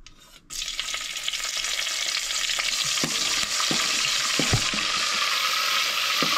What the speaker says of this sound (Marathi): फोडणी मारतना इल्लें तेल एड करप, इल्लेशें एड करप, मागीर सुके मिरसांगो